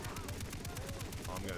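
Rapid machine gun fire in a video game, a fast regular train of sharp bursts going on for the whole stretch, fairly quiet in the mix.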